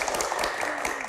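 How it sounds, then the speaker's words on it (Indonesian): A studio audience of university students claps in a brief, dense burst of applause at a televised Indonesian Q&A show. "Tepuk tangannya mana?"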